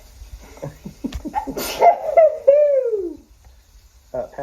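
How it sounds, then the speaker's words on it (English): A single sneeze bursts out in a kitchen during cooking, followed by a drawn-out vocal sigh or groan, with brief speech fragments around it. "I think I'm going to have to sneeze"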